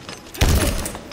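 A grenade goes off in the Halo Infinite video game: one short, muffled thump with a brief low rumble that quickly dies away.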